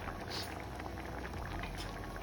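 Quiet, steady bubbling of mutton curry and water boiling in a pot, with soft irregular pops over a low simmering hiss.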